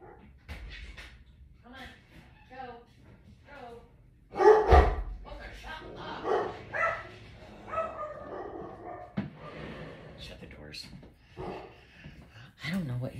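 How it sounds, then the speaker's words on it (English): A dog barks a few times, one sharp bark standing out, while a person keeps talking nearby throughout. "I don't know what he's barking at."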